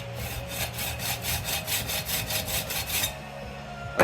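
A steel card scraper is filed back and forth on an AccuBurr Jr in quick, even strokes. About a dozen close rasping passes repeat rhythmically, then stop abruptly.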